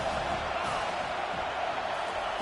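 A stadium crowd roars in the NCAA 25 college football video game, a dense continuous wash of cheering and noise close up that holds steady throughout with no clear talking.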